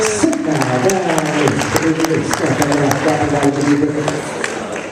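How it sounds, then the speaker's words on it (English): An audience at a high school hypnosis show claps steadily throughout, with scattered sharp claps over crowd noise. "give them all a nice big round of applause"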